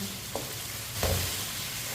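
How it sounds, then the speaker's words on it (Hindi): Spiced potatoes cook in a pan with a soft, steady sizzle, broken by a couple of brief stirring scrapes, heard close and alone without any talk. "इसी तरह इसे मिक्स करते हुए 3-4 मिनट के लिए पका लेते हैं।"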